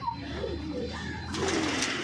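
Soft, low cooing of pigeons close by, overlapping murmurs with a brief flutter near the end, no talking.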